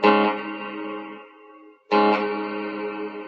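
A loud, effected tone held with a reverb whose tail sounds unnatural, decaying and changing colour over more than a second before cutting out, then a second strong note enters and sustains.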